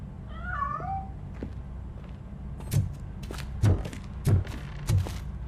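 A cat in the video game RoboCop: Rogue City gives one short wavering meow, followed by a run of dull thumps and knocks spaced about a second apart over low background hum.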